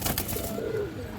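A silver pigeon gives a soft, low coo, brief and faint, close by with light background hiss.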